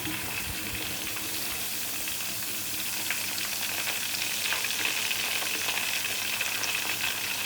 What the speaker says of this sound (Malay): Kita perlu goreng ayam ni sehingga masak.